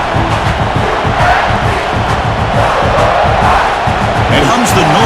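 A loud stadium crowd in a college football video game roars and hums continuously, a dense wall of cheering that stays steady throughout.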